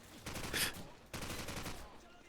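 Grenade blasts and gunfire in Call of Duty 4: Modern Warfare, dense bursts of combat noise with a sharp loud hit early on, continuing steadily with a second cluster of shots and rumble.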